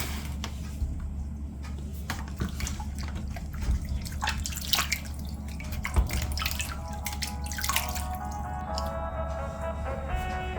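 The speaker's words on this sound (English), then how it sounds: "Wash and pat dry tomato." Tomatoes being washed under a running kitchen tap, with steady water flow and intermittent drips and splashes throughout, close and moderately loud, with no talking.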